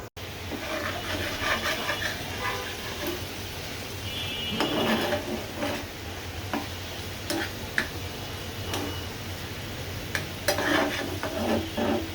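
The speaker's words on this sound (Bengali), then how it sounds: "আমি এইভাবে আবার কষিয়ে নিব" Meat being stirred and sautéed in a pan with coconut to be added later, steady close sizzle under scattered scraping and clinking strokes of a spoon against the pan, no talking.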